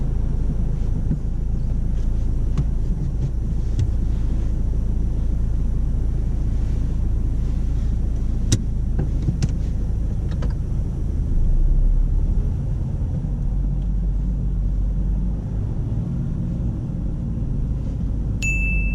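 A car creeps slowly through a reverse parallel park during a driving test, a low steady engine rumble with wind buffeting and a few light clicks, no talking.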